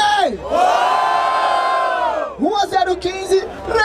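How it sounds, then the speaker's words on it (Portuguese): Crowd at a rap battle in Barueri roaring and cheering loudly, a sustained swell of voices that dips briefly and then rises again into scattered shouts and whoops. "Barulho para as rimas do Moita Treta"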